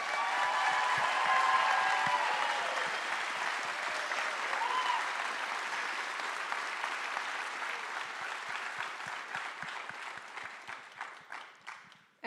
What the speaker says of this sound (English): let's give a round of applause for the class of 2025